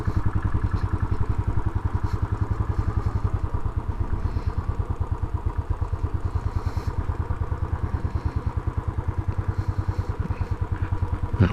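Royal Enfield Classic 500 motorcycle idling steadily while being parked, a close, even single-cylinder thump that holds without revving and has no talk over it.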